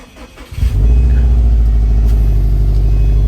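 A Subaru WRX STI engine cranks briefly and catches, then settles into a loud, steady, throaty idle close by.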